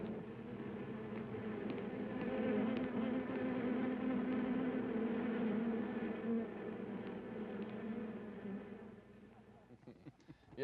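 Bees buzzing in the film Invasion of the Bee Girls, a dense, steady droning hum that holds for several seconds at moderate volume before breaking off into scattered clicks near the end.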